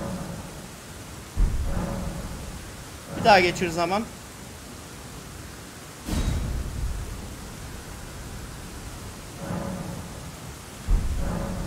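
Steady rain pours under a low thunder rumble in Elden Ring, with someone speaking briefly and scattered in-game sound effects over the storm.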